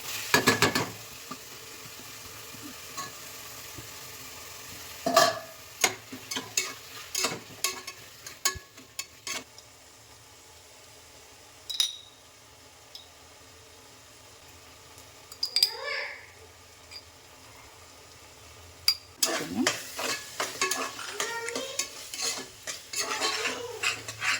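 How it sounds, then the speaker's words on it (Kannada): Tomato frying in a pan for menthya pulao, with scattered stirring scrapes and utensil clinks over a faint sizzle, some louder bursts of clattering, and occasional voices in the background. "ಘಮ ಬರಬೇಕು, ಅಲ್ಲಿವರೆಗೂ ಚೆನ್ನಾಗಿ ಫ್ರೈ ಮಾಡಿದ್ರೆ ಈಗ ಟೊಮೆಟೊ ಹಾಕೋಣ."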